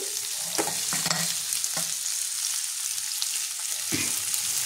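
Raw green tomato fries in a pan with garlic, giving a steady bright sizzle with a few soft knocks from stirring.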